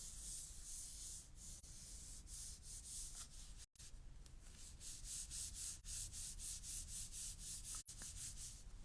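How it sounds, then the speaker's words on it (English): A hand rubs paper over an inked rubber stamp in steady, rhythmic back-and-forth scrubbing strokes, close and fairly quiet, with two brief pauses and no talking. "I'm holding one side and rubbing with the other side and hoping it turns out."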